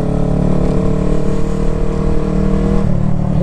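A motorcycle passes on a rural mountain road near Hadano, Japan, in cold weather, its engine droning loudly and steadily, rising in pitch near the end as it goes by close.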